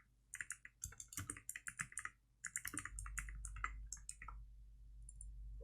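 C# code typed on a computer keyboard, with fast, close, irregular clicking keystrokes in bursts, a short pause, then more typing over a low steady hum.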